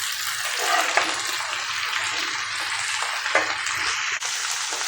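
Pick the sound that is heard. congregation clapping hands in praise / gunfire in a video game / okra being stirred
okra being stirred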